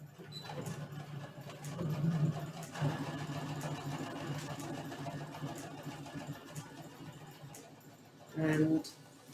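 Quiet sewing machine stitching a placemat cutlery wrap, running in a soft continuous hum with small stops and restarts, a brief louder burst near the end.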